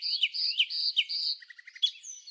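A small African pygmy kingfisher in Cameroon's rainforest gives a run of thin, high, quick chirps and whistles, then a short stutter of clipped notes and a final squeaky phrase, clear and close with no other sounds around.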